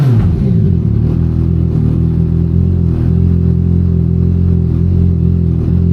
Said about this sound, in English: thought it was my bike for a minute then, people. It's that noisy neighbours.